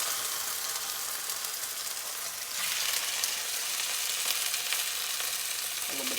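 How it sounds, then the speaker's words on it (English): Chicken thighs frying in very hot oil in a skillet, a loud, close, continuous sizzle with fine crackle that swells as more meat goes in, with no talking. "I'm gonna come on over to the skillet and start cooking. Got a little bit of oil, heat it up there."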